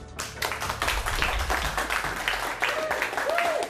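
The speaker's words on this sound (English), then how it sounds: "Well-deserved applause, girls." A cycling TV show's studio audience claps in a steady, close burst of applause lasting a few seconds, with a faint voice and brief tonal sounds near the end.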